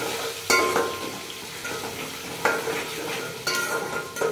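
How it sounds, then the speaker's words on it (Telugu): Onions fry with a steady sizzle in a pan of hot oil after tempering seeds and dried vadiyalu have gone in, with a few sharp scraping stirs of a spatula against the pan. "ఆనియన్స్ వేసేసుకున్నానండి ఇక్కడ."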